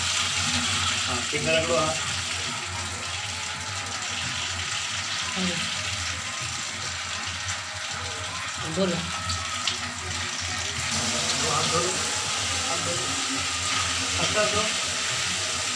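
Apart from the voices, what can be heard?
water poured over hands for handwashing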